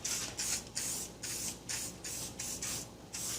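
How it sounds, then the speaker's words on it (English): Short bursts of aerosol spray hiss close by onto a chainsaw chain, about nine quick pulses in a row, each a bright airy spritz with brief pauses between. "just use a little bit of spray."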